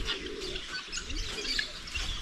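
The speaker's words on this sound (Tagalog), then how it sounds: "Hindi ko na po nabilang kung ilan lahat yung ating mga kalapati dito." Pigeons coo softly and repeatedly in a rural mountain loft, their low murmuring calls overlapping with faint chirps and background noise.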